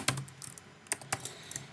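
Code is typed on a computer keyboard in a quick run of close, crisp keystrokes in irregular bursts, with no voice present.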